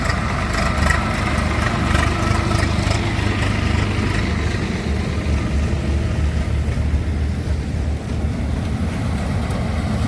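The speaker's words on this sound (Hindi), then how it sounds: "आप देख रहे होंगे कंबाइन कितने शानदार तरीके से काटते हैं। और ये ट्रैक्टर भी आ गया है" A combine harvester cutting rice paddy in a field, with a tractor nearby, gives a steady, loud low engine drone that runs unbroken from start to finish.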